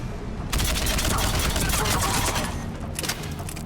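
Gunfire rattles in the video game Mass Effect 3, a dense burst of automatic shots and blasts that starts abruptly and stays loud and continuous, with short breaks and a second volley near the end.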